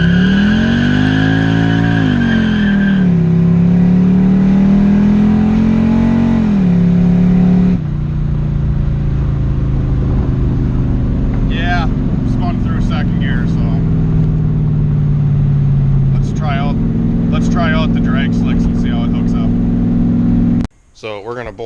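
A loud LS-swapped Fox Body Mustang V8 revs and holds against the torque converter, the engine note climbing, dropping and climbing again in long sustained pulls, with squeals and people talking over the roar before a sudden cut.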